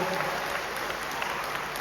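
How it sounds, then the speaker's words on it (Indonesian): Audience applause at a full concert hall, a dense steady wash of clapping throughout with no breaks. "Lagunya belum selesai kan udah tepuk tangan. Terus lagunya selesai, tepuk tangan lagi."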